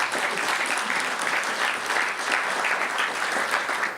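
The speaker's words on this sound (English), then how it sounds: "For all of them, a round of applause," An audience applauds at a recognition event, a dense, steady wash of clapping hands from a full room, continuous and moderately loud.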